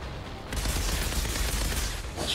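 Rapid gunfire from a gun in Outriders Worldslayer, a dense continuous volley of loud shots starting abruptly and rattling on without pause.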